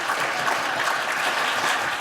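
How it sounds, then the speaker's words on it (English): Spectators in the U.S. Senate gallery burst into applause as a bill funding care for 9/11 first responders passes, a steady wash of many hands clapping together. "The Senate gallery erupted in applause"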